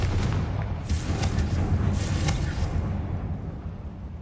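A Confringo spell blast in Hogwarts Legacy: a loud, sustained explosive roar with booming low rumble that fills the whole moment and slowly fades.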